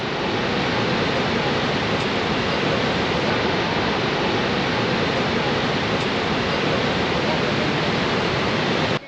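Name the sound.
Niagara Falls waterfall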